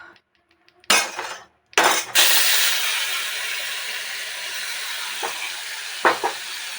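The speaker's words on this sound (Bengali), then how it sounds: "এদিকে আমি তেলটাকে গরম করে নিয়েছি, এতে আমি এখন কলার এই পেস্টগুলোকে ঢেলে দেব" Banana paste poured into hot oil bursts into a loud sizzle after a couple of sharp splashes, then settles into a steady frying hiss with a few brief pops near the end.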